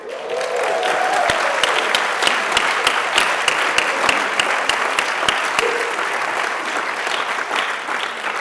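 Audience applause fills a Teacher of the Year awards show, a steady dense wash of clapping with a few sharper claps standing out, sustained loud for the whole stretch and easing slightly near the end.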